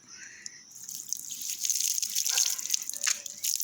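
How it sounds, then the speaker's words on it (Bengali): Turmeric-tinted water poured over a potted tulsi plant, a steady trickling splash that builds in the second half and runs continuously, moderately close, with no talking. "এবার আমরা তুলসী মাকে এই হলুদ জল দিয়ে স্নান করাবো"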